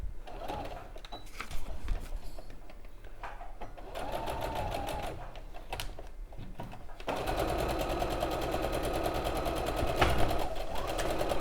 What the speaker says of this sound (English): So sew this together, again using a 1/4 inch seam allowance.